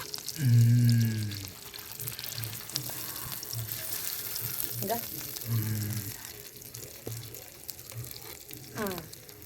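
Fish frying in oil in a home kitchen, a steady soft sizzle running throughout with occasional clinks and stirring, while voices talk over it.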